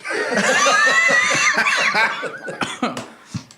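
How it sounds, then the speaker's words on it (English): Someone coughs a few times amid lively, overlapping laughter and chatter, the bursts loud and close. "He's coughing a little bit."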